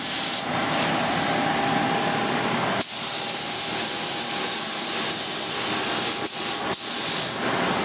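A spray gun hisses steadily and loudly while painting a 1973 VW Thing, a broad continuous spray with brief breaks where the trigger is released and pressed again.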